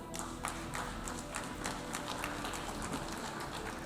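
Delegates in the UN General Assembly hall applaud a speech by Finland's president, a faint, distant, steady clatter of many hands over the hum of a large room.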